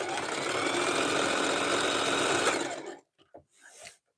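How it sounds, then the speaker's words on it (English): A sewing machine runs steadily stitching jelly roll fabric strips into a rug, a loud continuous whirring hum for three seconds before stopping, followed by small clicks and handling. "maybe when I'm done sewing these strips"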